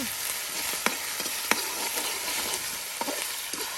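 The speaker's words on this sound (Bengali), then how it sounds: "সকল প্রকারের বাটা দেখুন প্রিয় ভিউয়ার্স একসাথে দিয়ে এই তেলের সাথে আপনার ভেজে নেওয়া হচ্ছে" Steady sizzling of ground spice paste frying in hot oil for a boal fish curry, with occasional sharp clicks and scrapes from stirring, close and continuous.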